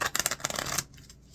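A deck of tarot cards being shuffled, a brief, close riffle of rapid papery flicks that ends abruptly after under a second.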